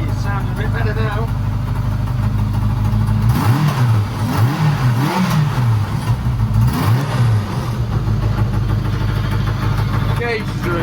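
A retro Kawasaki project motorbike with freshly worked carburettors runs steadily, its engine note rising and falling through several revs in the middle, with a person talking over it throughout.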